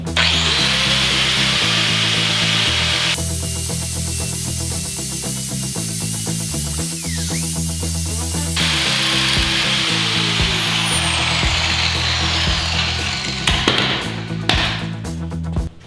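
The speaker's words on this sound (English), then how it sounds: "Just take a very light grind to it." An angle grinder takes sealer off a front-engine dragster's engine with a loud, continuous harsh grinding, close up, its pitch and tone shifting as the tool is pressed and lifted over about sixteen seconds.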